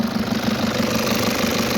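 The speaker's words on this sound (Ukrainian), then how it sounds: "Двигун не намивався. Кому потрібно, можемо помити. Ось так він працює." A 2007 Nissan Patrol with a 3.0 diesel engine and automatic gearbox runs steadily nearby, giving a loud, even rumble with a faint knocking texture and no voices.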